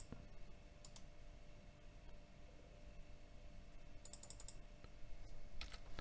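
Faint, close clicks from a computer mouse come in small clusters of two or three over a quiet background hiss, with no talk.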